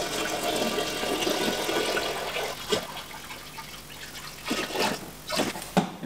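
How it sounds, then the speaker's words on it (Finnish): Water pours into a nutrient solution for hydroponic cucumbers, a steady gushing stream that fades and returns in short splashes, faint and alone with no talk. "Ja sit lisätään vettä."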